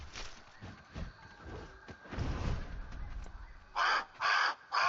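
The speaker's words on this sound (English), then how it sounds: "Oh, and there's a bird up there." A crow in a video game gives three loud, harsh caws in quick succession at the end, following quieter shuffling ambient movement.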